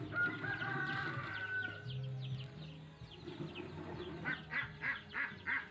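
Laying hens cluck in a chicken coop, a fairly quiet mix of overlapping clucks and drawn-out calls, ending in a run of rhythmic, repeated clucks.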